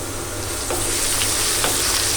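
Ginger and garlic fry in a pan with a steady, close sizzle and crackle, broken by a few faint stirring clinks, with no voices.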